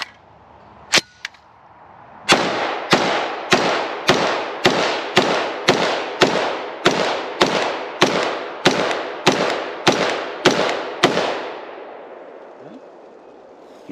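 An IWI Tavor-7 .308 bullpup rifle fires a string of about fourteen loud, sharp shots at a steady rapid pace outdoors, each crack followed by a short echoing tail, after a couple of isolated early bangs.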